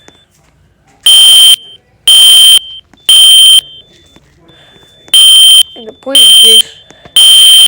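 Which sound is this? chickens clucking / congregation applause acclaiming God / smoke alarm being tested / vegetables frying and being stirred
smoke alarm being tested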